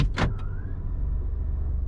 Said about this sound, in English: It sounds like when I put it in park, it's automatically engaging the rear parking brake. You can hear it